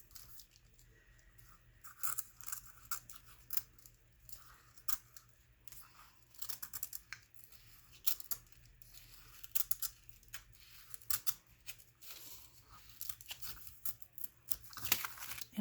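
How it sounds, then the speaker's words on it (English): An X-Acto knife slits open a paper envelope, a series of faint, sharp crinkling and tearing scrapes in irregular bursts, close and quiet, with no talk. "I'm just going to take my X-Acto knife."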